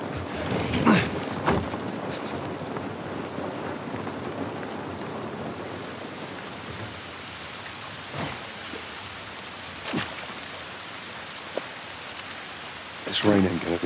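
Steady rain falls outdoors in the video game The Last of Us Part I, a continuous wash of droplets with a few distant thunder-like rumbles and brief splashy accents, while a voice speaks quietly at times.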